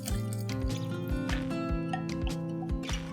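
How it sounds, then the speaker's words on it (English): Water with soaked rose petals poured from one vessel into another: a close, continuous trickling and splashing pour with bright, dripping detail, quiet and uninterrupted by talk. "I'm going to transfer it into a vessel."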